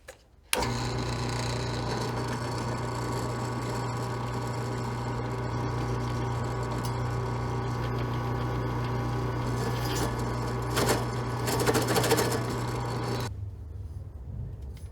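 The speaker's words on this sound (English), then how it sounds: "I've got the drill centered on the hole here" A drill bores a hole through a bicycle seat tube, held shimmed with a piece of wood: a steady whirring motor drone running for about thirteen seconds, with a rougher grinding burst near the end before it stops.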